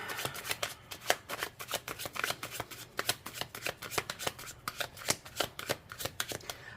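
A deck of playing cards is shuffled close up, making rapid crisp riffling clicks in uneven bursts throughout with nothing else around them.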